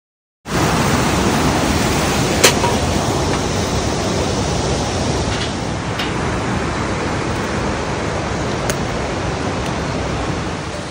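A rushing mountain stream on the Gosaikunda trek in Nepal, a loud, continuous broadband roar of fast water that starts abruptly and holds steady, with a few faint high chirps above it.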